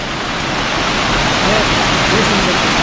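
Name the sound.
water falling 10 metres onto a mill turbine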